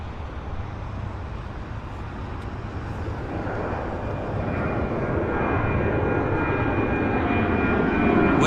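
A WestJet airliner takes off at Vancouver Airport, its jet engine roar a steady broadband rumble that slowly swells louder over several seconds, with no talk.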